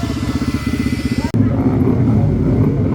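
A Suzuki GSX-R150 motorcycle engine runs loudly at a race with a throbbing, pulsing rumble that briefly cuts out and then continues, closer and steadier.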